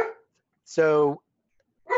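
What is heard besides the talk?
dog barking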